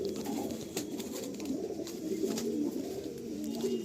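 Pigeons of Malwai, Madrasi and Andhra breeds coo softly in a loft, low repeated rolling calls at a modest level with a faint background hum, and no talking.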